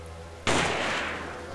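A single sharp enemy gunshot in the survival horror game Forbidden Siren, a loud sudden blast after near silence with a long fading tail.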